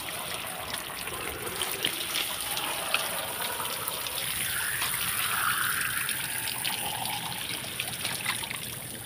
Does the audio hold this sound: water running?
yes